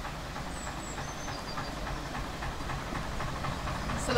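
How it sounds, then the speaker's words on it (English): A narrowboat's diesel engine runs steadily at a busy canal lock on the Caldon Canal, a continuous low chugging rumble at moderate level with no voices over it. "Lovely sounding boat, isn't it?"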